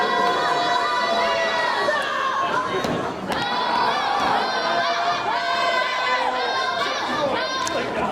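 A wrestling crowd backing Cuco Santiago roars, chants and shouts in a dense, continuous wall of noise, with many voices rising and overlapping throughout.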